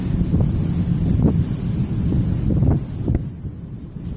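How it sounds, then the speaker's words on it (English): Strong storm wind buffets the microphone in steady, heavy low gusts, loud and close throughout, with brief surges and no talk. "Yeah, the wind changed directions."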